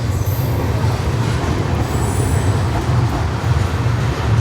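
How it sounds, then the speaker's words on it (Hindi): The Kanchan Kanya Express at a railway station, rumbling low and steady with continuous wheel and carriage noise, loud and close, with faint high squeals over the top. "कंचन कन्या एक्सप्रेस सियालदा अलीपुर द्वार जंक्शन।"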